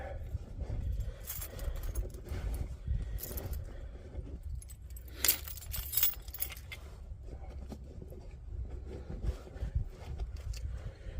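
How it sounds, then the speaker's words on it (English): Keys jingle and scrape as they are pulled out of a pocket, a run of close metallic clinks and rustles over a low rumbling background, with bright bursts scattered throughout. "So I can get my keys, they're in this pocket anyway. Get my keys out of the pocket."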